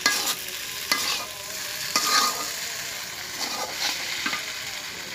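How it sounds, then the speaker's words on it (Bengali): Noodles fry in a pan at a picnic while being stirred, producing a loud continuous sizzle broken by sharp scraping strokes of the spatula every second or so. "এখন আমরা ভালো করে লাড়াচাড়া করে নিচ্ছি, আপনারাও লাড়াচাড়া করবেন এই রেসিপিটি বানান।"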